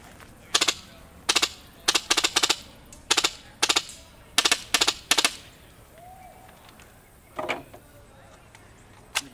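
Inferno DMR airsoft gun fitted with a Xero unit from Xcustoms fires several quick bursts of sharp, snappy clicks in a steady rhythm, close and loud, followed by a pause and one last short burst.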